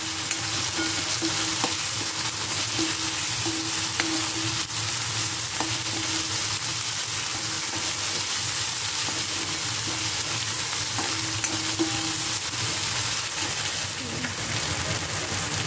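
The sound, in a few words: onion and tomato roasting in a pan for masala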